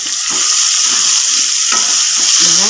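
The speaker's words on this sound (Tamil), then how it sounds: "வெங்காயம், பூண்டு, இஞ்சி நல்லா வதங்கணும்." Steady, bright sizzling of onions, garlic and ginger frying in a hot pan, with occasional scraping stirs, close and continuous.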